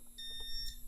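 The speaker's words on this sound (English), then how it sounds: "I just activated the Edwards smoke detector" An Edwards smoke detector gives a brief, faint, thin high-pitched electronic beep in a quiet room.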